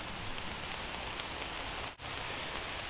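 Steady rain falls on a forest campsite, a dense, even hiss of drops on surfaces that stays constant for the whole stretch, with no voices.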